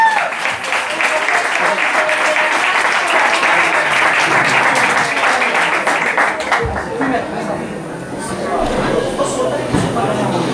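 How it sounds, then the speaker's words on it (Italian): A large audience applauds a singer at a live singing competition, filling the clip with dense, loud clapping that fades slightly toward the end as scattered claps remain. "Applausi!"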